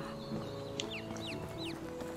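A rooster in the game Medieval Dynasty gives a few short rising-and-falling clucks in quick succession over a steady low background hum, fairly faint and without speech.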